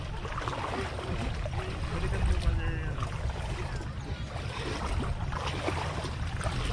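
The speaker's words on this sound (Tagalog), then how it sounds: "Lakas ng agos." Strong river current rushing steadily around a boat, a dense broadband wash that swells briefly near the middle, with a faint voice at times beneath it.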